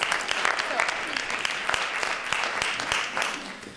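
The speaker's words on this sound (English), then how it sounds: "let's give him a preemptive applause" An audience applauds a speaker at a talk, many hands clapping in a dense, continuous patter that holds steady throughout, fairly close and full.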